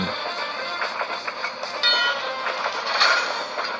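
Train running in the iPhone video game Iron Horse, a continuous rattling, clattering rumble with rhythmic clicks, fairly loud and steady throughout with no talk.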